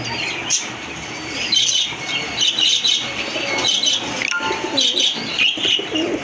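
Pigeon cooing among a flock of large crested, pink-beaked pigeons kept for sale, with repeated soft calls and some wing flutter over steady background bird noise.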